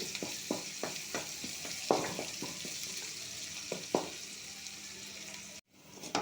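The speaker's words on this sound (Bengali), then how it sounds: "আমাদের পেঁয়াজটা ভাজা হয়ে গেছে, লাল লাল হয়ে আসছে, হালকা বাদামি কালার হয়েছে" Onions frying in a pan for a prawn and turnip-potato curry, a steady close sizzle with several sharp spoon-stirring clacks scattered through, then a brief break and the sizzle resuming.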